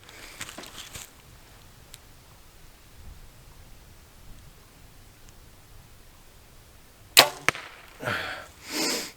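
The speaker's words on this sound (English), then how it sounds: "So we'll do 3 or 4 arrows here each and let you guys just hear them" Arrows loosed from a bow striking a target, a sharp pair of thwacks followed by rustling, after a long stretch of quiet outdoor ambience.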